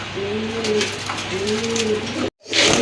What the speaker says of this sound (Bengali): সুন্দর একটা মাদি মার্কিং কবুতর, দেখেন, এটা আপনারা দেখেন